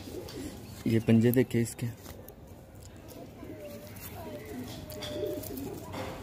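Pigeons coo in a breeding loft: low, rounded murmuring calls rise and fall softly. A person talks nearby, and the birds are loudest in a short cluster near the start.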